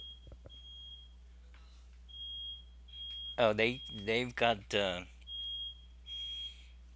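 A household smoke alarm set off by cooking smoke, sounding a steady high-pitched electronic beep that carries on continuously while someone talks over it nearby.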